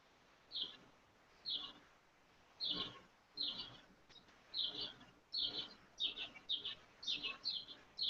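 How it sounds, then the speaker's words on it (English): Birds chirp in short bright bursts outside a window, about a dozen calls repeating every half second to second, fairly faint and distant, with soft room noise beneath and no speech. "I can hear the birds through the window outside"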